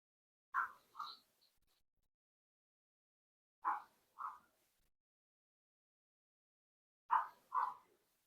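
A dog barks in quick pairs, three double barks spaced a few seconds apart, with silence between them.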